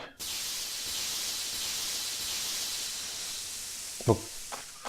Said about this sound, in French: On va utiliser le spray.